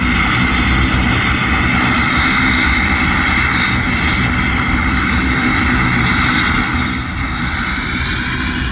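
Turboprop aircraft at the Oshkosh airshow, producing a loud, steady engine drone with broadband roar nearby that stays constant throughout and eases slightly near the end.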